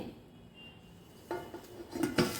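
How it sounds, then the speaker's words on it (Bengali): A large metal plate is set over a cake pan while baking an eggless gondhoraj orange cake, a couple of close metallic clanks and scrapes near the end after a quiet stretch. "আমি একটা বড় থালার সাহায্যে ঢাকা দিয়ে নিচ্ছি"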